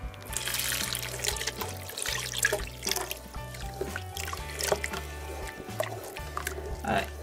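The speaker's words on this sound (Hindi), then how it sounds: "अब मैं इसमें ये 1 गिलास दूध शामिल कर लूँगी" A glass of milk is poured into a tomato-ketchup macaroni sauce, making a close, bubbly trickle and gurgle that rises and falls over a low background hum.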